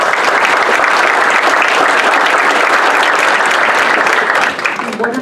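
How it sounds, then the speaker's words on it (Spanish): Loud, sustained audience applause welcomes the presenter at a book presentation on Luis de Carvajal de la Cueva, a dense steady wash of clapping that tapers off near the end. "Démosle la bienvenida con un aplauso."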